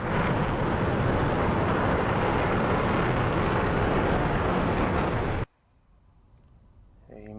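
A jet plane roars loud and continuous in the DCS flight simulator game, a dense broadband rush that cuts off abruptly near the end, leaving near silence before a faint rising whine creeps back.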